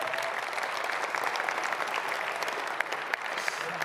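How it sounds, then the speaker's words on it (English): An audience at an orchestra's 2023 season launch event applauds, a steady wash of clapping from many hands that fills the hall and continues without a break. "Can they applaud me when I leave?"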